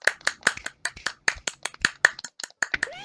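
Applause from a small group, quick uneven claps blending together for a few seconds, fairly close and clear with no talking.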